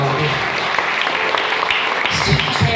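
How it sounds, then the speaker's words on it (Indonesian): A church audience at a healing revival service bursts into applause, a dense, steady clatter of many hands that swells slightly toward the end. "Tepuk tangan buat"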